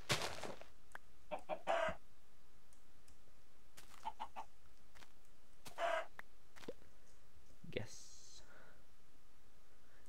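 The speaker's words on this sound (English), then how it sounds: "And there's chicken up there." Chickens clucking in the video game Minecraft, several short scattered clucks and clicks over about ten seconds, moderately close with quiet gaps between them.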